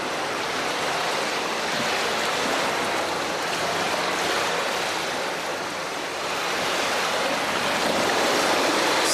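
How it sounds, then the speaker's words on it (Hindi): Steady, loud roar of sea waves breaking and surging, a continuous wash of water noise with no voices. "एक बार फिर समंदर की मौजों का वैसा ही शोर शुरू हो गया"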